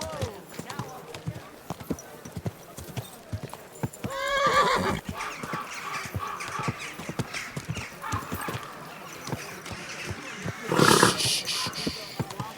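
A horse in Kingdom Come: Deliverance 2 clip-clops steadily throughout while whinnying and snorting, with a louder burst near the end amid busy background noise.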